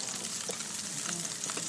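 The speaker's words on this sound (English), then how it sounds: "I hope you guys can hear the sizzling." Beer-battered food sizzles steadily in hot frying oil, a dense, continuous crackle with scattered pops, close and fairly loud, with no voices over it.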